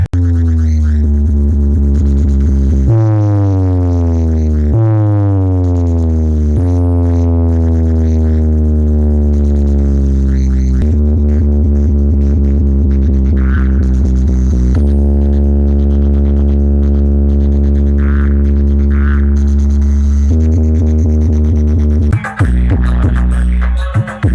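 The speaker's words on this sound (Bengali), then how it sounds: "এখানে কিন্তু ডি মিউজিক কিন্তু স্পিকার চেকিং শুরু করে দিয়েছে" Loudspeakers from the D Music sound setup being tested before Kali Puja in Madhavpur: loud, sustained electronic tones that step and glide between pitches for over twenty seconds, ending in a brief noisy burst.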